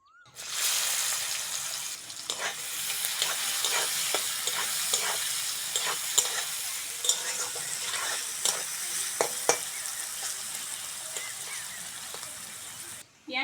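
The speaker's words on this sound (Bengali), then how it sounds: "ওই তেলের মধ্যে শুকনো লঙ্কা ফোড়ন দিয়ে দেবো এবার দেব পেঁয়াজ" Onion frying in hot oil with dried red chili tempering, a steady broadband sizzle that stays loud and constant throughout, broken by frequent scrapes and knocks of a stirring spoon.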